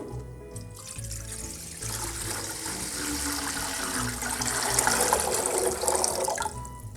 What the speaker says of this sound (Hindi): अभी मैं 2 लीटर पानी डाल रही हूँ